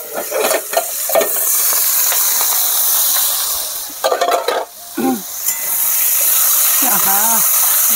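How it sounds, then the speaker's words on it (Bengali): Spice paste of onion, whole cumin and whole chillies dropped into hot, darkened fish-frying oil, a loud close hiss and sizzle that dips briefly, then swells again with stirring. "এই যে মশলাটা দিয়ে দিচ্ছি"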